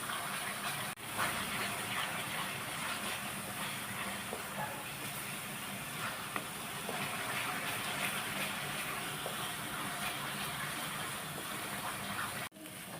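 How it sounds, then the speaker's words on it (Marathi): Masala frying in oil for a Maharashtrian-style chicken curry, giving a steady, continuous sizzling hiss that stays fairly loud and even throughout, with no talk over it. "पाच दहा मिनटं मी मसाला चांगला भाजून घेते"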